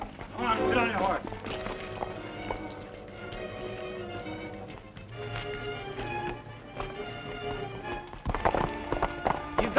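Horses move off at a quick pace, hooves clattering in a rapid rhythm amid outdoor commotion, with voices and music mixed in.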